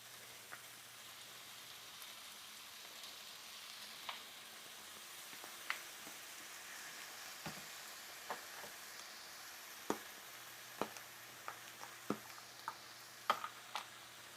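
Salmon with lemon fries in a pan with a quiet, steady sizzle, broken by scattered faint pops and crackles that grow more frequent toward the end.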